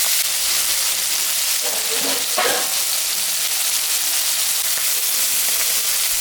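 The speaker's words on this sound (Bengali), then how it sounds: "তেল গরম হয়ে গেছে, আমি এখন মাছটা ভাজবো।" Fish seasoned with salt and turmeric frying in hot oil in a home kitchen, giving a steady, close broadband sizzle throughout with a couple of brief louder crackles partway through.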